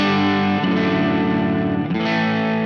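Laney Ironheart Foundry Loudpedal's rhythm channel with added gain: a sustained, densely distorted electric guitar chord rings thick and loud, shifts to a new voicing partway through, then returns, with no talking over it.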